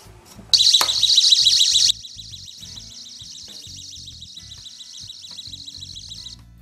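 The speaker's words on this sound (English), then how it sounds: "All you need to do is arm the alarm and it should be ready to go." A porch pirate package alarm, armed and triggered on a parcel, blares a loud, rapidly pulsing high-pitched electronic siren, then continues at a lower level with steady warbling beeps for several seconds.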